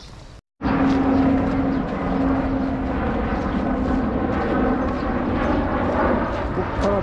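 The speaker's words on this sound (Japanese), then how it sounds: "こっからでも飛行機は見えます。" A plane roars steadily overhead, a loud broad drone with a humming tone that holds for several seconds outdoors.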